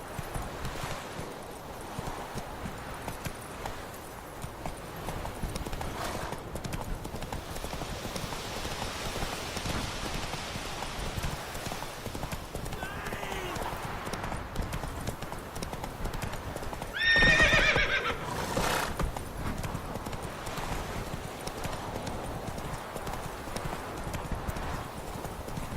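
A horse in The Witcher 3 gallops with a steady, continuous clip-clop of hooves across the whole stretch, and one loud neigh rises briefly near the end.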